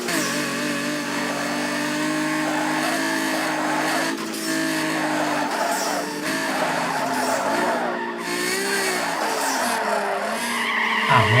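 A Mitsubishi GTO in Need for Speed Underground 2 skids and spins out, its tires squealing in a long, steady screech over the loud droning engine, with the pitch wavering as the car slides.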